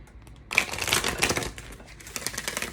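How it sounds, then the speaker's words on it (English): Close, crisp riffling of tarot cards being shuffled, a dense rapid flutter of clicks that starts abruptly and tapers into scattered taps. "Okay, let's do one more shuffle here."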